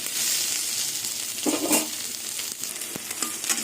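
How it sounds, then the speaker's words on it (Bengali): Soybean chunks frying in oil in a pan, a close crackling sizzle with a few louder bursts and a sharp scrape or knock of the spatula near the end, no voices present. "সোয়াবিন ভাজা হয়ে গেছে"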